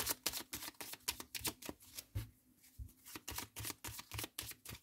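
A Lenormand oracle card deck being shuffled by hand for a draw, close and crisp, with rapid rhythmic riffles and flicks running continuously with a brief lull midway.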